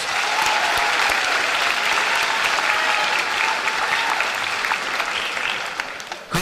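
A high school graduation crowd claps loudly and steadily, a thick wash of applause that holds for several seconds before starting to taper off at the close.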